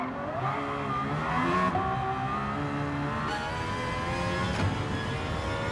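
An Aston Martin Valkyrie in Gran Turismo 7 screams through its revs, the high engine note climbing and dropping sharply with each gear shift, loud and continuous with no voices.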